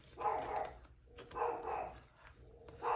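A dog barks three times at a slow, even pace, muffled and somewhat distant, with quiet background between barks.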